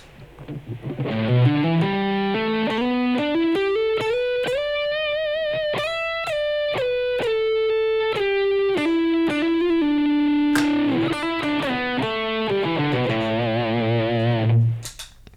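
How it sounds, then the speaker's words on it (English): Distorted electric guitar plays a rising and falling melodic line of sustained notes, loud and saturated, with no voices. "Let me use distortion real quick."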